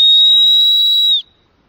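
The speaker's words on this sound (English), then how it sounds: "I give them one more whistle to know we're still here." A loud, shrill whistle blast outdoors on a mountain road, one sustained high note held for just over a second and then cut off sharply, followed by quiet.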